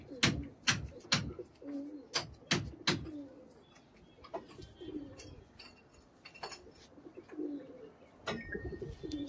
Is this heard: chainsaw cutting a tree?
no